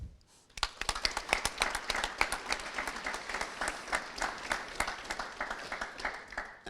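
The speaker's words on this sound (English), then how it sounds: "give a brief round of applause to show our appreciation to those who are here celebrating this milestone with us today" Audience applause at a 2020 white coat ceremony, a steady round of many hands clapping that starts abruptly after a brief pause and carries on densely at moderate volume, with no voices over it.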